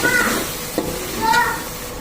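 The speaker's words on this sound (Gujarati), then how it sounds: "લસણને ખાલી બે થી ત્રણ મિનિટ સંતળાઈ જાય" Crushed garlic sautéing in a hot pan for Rajasthani dal, giving a steady soft sizzle and hiss with a faint stir or utensil tap near the middle, close and moderately loud.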